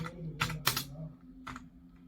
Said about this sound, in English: So you need to type the sudo